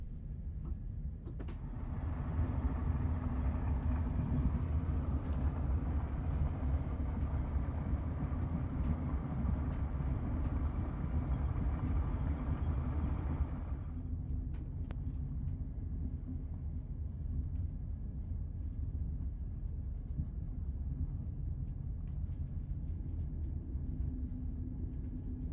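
East Midlands Railway train on the Liverpool to Norwich service, heard from inside a carriage: a steady, loud low rumble of running wheels and motor, with a brighter hiss that drops away partway through, leaving a continuous deep drone.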